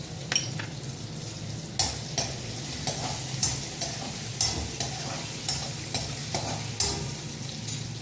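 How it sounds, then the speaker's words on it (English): Peppercorns with ginger and green chili fry in a pan for venpongal, a steady sizzle punctuated by regular clinks and scrapes of a spoon stirring, close by and without talk. "Now to this I add peppercorns, which is about 2 teaspoons."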